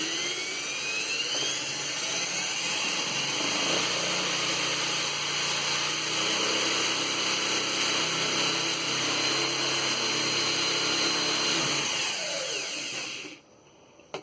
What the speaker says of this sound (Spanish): Ahí conecté el taladro, lo sostengo con la mano un poquito y ahí lo vamos haciendo girar.